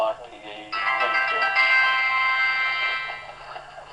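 Mobile phone ringtone sounding nearby, a sustained bright melodic tone starting abruptly and holding for a few seconds before fading, with a person speaking briefly at the start.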